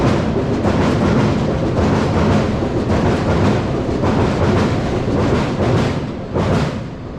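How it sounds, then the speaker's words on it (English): A train rattles across a railway bridge overhead in London, a loud, continuous rumbling roar with steady clatter throughout, close and dominating. "There's a train rattles overhead."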